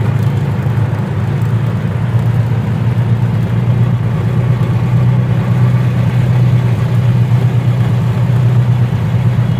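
Auto rickshaw engine running loud and close, a steady low idling drone that holds unchanged for the whole stretch with no voices.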